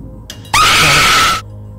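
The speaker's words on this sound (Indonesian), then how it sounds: "saya kayak macam dengar perempuan teriak" A woman's scream, one loud sustained shriek lasting under a second after a brief short cry, close and piercing.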